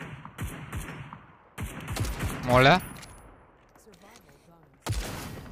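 Gunfire in the Super People battle royale video game rings out in bursts and scattered shots, with a sharp louder volley midway, under and between a player's brief talk.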